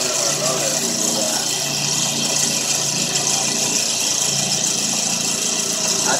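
The motor of a homemade electrospinner built from cheap tools runs as a loud, steady whir with a constant mechanical hum throughout.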